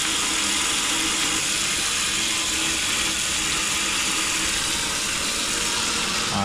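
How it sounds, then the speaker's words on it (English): A sprinkler-head nozzle on a garden hose sprays water steadily against a window, a constant loud hiss that never lets up, with no talking. "So just a sprinkler head nozzle on my garden hose"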